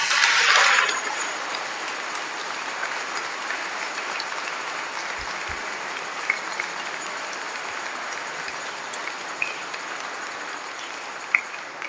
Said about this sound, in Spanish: Para él pido un sincero y fuerte aplauso.